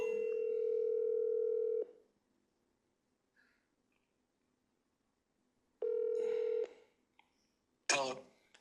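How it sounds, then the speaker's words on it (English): Phone call sounds: a long steady dial tone, a pause, a second tone, then a short bright burst of dialing or ringing, all close and clear with no talk. "I love calling people while they're looking at the deal."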